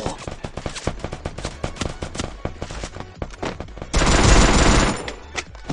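Rapid gunfire in a mobile shooter game played on BlueStacks, a series of sharp, close shots in quick bursts, ending in a loud sustained blast before a few more scattered shots.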